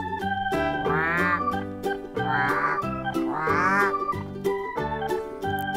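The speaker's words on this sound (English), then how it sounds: "Here's a duck." A farmyard duck quacks three times in a row in an animal-names lesson, each call a nasal, drawn-out honk set against soft, steady background music.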